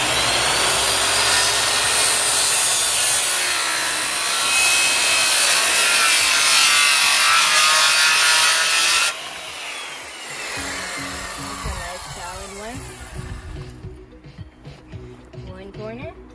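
A scroll saw cuts through wood in a garage. The first half is a loud, steady, rasping buzz. Then the sawing drops to a lower, choppier level with intermittent cuts and scraping toward the end. A voice speaks briefly over it.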